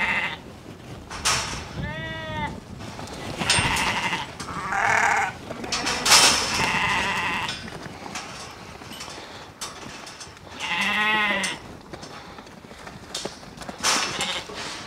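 Sheep and lambs bleat in a pen during weaning, several wavering calls rising over a busy farmyard background with shuffling and movement.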